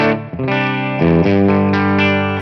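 A loud electric guitar with humbuckers rings out sustained chords through a Tonex amp modeler boost, gritty overdrive edging into breakup, each chord held and changing a few times.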